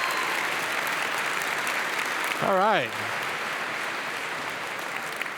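Audience applause and cheering for a speaker at a large live event in Vancouver, a steady wash of clapping throughout with a brief spoken voice breaking in partway.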